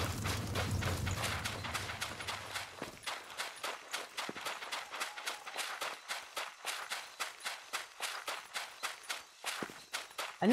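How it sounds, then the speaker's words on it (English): Heavy footsteps in a werewolf battle royale game thud in a quick, regular running rhythm, close and continuous, following a brief low rumble at the start. "I know I heard some heavy footsteps"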